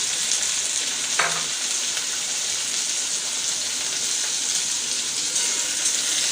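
Chopped onions and green chillies sizzling in hot oil in a pan, a steady crackling hiss throughout with a brief stirring clink early on, close and even in level.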